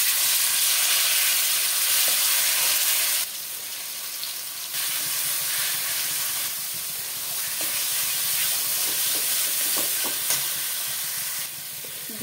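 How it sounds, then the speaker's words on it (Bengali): Olives, dried chilli and five-spice frying in mustard oil give a loud, continuous sizzling hiss that rises and falls in level in stages, with a few faint stirring clicks. "দিয়ে দেবো সর্ষের তেল, ফোড়নে দেবো শুকনো লঙ্কা, দিয়ে দিলাম 5 ফোড়ন, দিয়ে দেবো জলপাই,"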